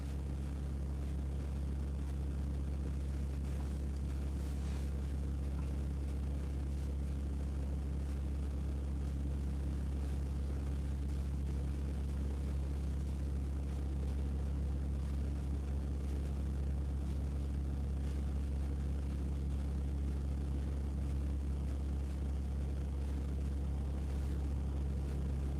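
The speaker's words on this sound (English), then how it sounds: "that compressor is really noisy from the thermal control" A Tesla Model Y Standard's thermal control compressor runs while heating the battery, giving a loud, steady low drone that holds unchanged for the whole stretch with no talking.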